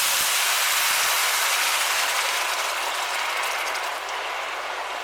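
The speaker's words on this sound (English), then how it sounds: "Now we want to put in our 1 litre of stock." Stock pours into a hot pan of saffron rice, giving off a loud, steady hiss and sizzle that fades only slightly over the few seconds, with no voices.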